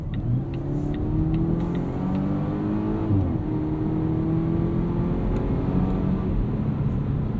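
A 2019 Volvo S60 T6 R-Design's turbocharged and supercharged inline four-cylinder pulls steadily while merging onto a highway at night, a continuous loud engine drone with rising harmonics and one gear change midway, heard from inside the cabin.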